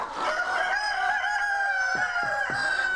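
In a free-range henhouse where hens and roosters roam and lay fertile eggs, a rooster lets out one long, close crow, followed by a few short clucks near the end, with no voices.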